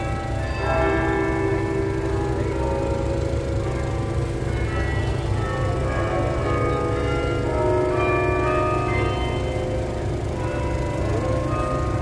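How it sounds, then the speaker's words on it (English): Church bells ring continuously on a New York City street, their overlapping tones sustained and fairly loud over a dense hum of city noise. "Should we stand a little bit longer and listen to the bells"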